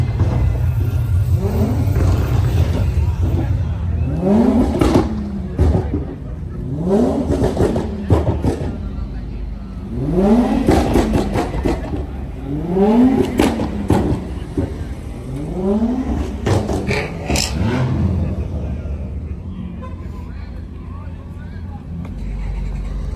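A supercar on skinny front tires revs hard at a car meet, its engine rising and falling in several loud, close bursts with a steady rumble between them, while people talk nearby.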